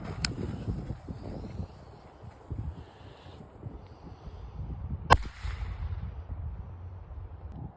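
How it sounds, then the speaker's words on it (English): A 1-inch firecracker goes off outdoors with a single sharp, loud crack partway through. A fainter pop comes earlier, over rustling wind noise. "up next is the mighty 1-inch firecracker"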